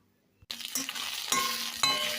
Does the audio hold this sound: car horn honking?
no